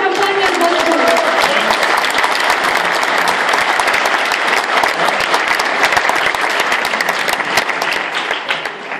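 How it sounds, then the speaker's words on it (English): Sustained, dense applause from a seminar audience fills the whole stretch, loud and steady, with a faint voice in the background near the start and a slight fade at the end. "So I want you to give OrganoGold a big round of Давайте applause."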